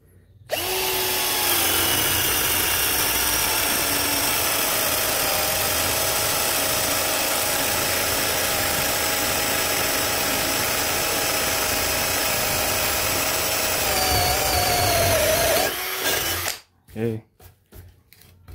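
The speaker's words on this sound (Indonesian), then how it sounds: "Mata bor kipas 18 mili, sebelah sini" A Dongcheng DCJZ1202i cordless drill boring with an 18 mm spade bit runs loud and steady for about fifteen seconds, its whining motor pitch dipping slightly under load, then stops abruptly with a few brief clatters after.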